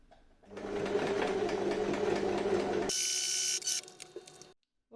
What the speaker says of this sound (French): j'ai refermé à la machine, vous voyez, par un point tout au bord et discret